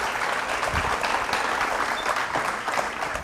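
A crowd at a graduation ceremony for service dogs and veterans claps in brief, steady applause, dense hand claps at moderate volume with nobody speaking.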